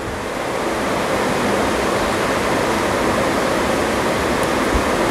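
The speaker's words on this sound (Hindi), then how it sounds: "अभी इसमें चॉप किया हुआ टमाटर डालेंगे, टमाटर के साथ साथ कैप्सिकम भी डाल देंगे।" Chopped tomato and capsicum tip into a hot pan while cooking rice pulao, giving a steady, loud broadband sizzle that holds evenly throughout with no speech over it.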